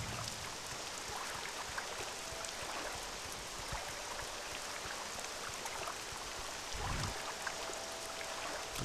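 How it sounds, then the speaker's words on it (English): Steady rain pours down in a dense, even hiss of drops in the video game Morrowind, with no voices over it. "It's already raining"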